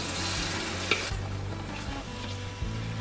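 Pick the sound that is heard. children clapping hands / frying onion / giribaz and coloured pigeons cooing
frying onion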